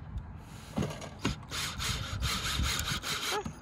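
A screw is driven into wood with no pre-drilling while building a plant box, giving a grinding, rasping churn that rises and falls over a few seconds, close and fairly loud with no talk.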